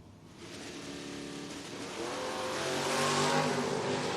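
Two drag cars launch and race side by side, a 1983 Chevy Camaro against a 1970 Mustang, engines roaring hard and building in a steady rising surge with no talk over them.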